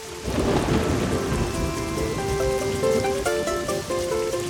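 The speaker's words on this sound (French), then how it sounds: "Qu'est-ce qu'on est bien à l'intérieur quand il pleut dehors." Cartoon rain and rolling thunder outside a house, a steady loud downpour with a deep rumble, while soft musical tones rise over it.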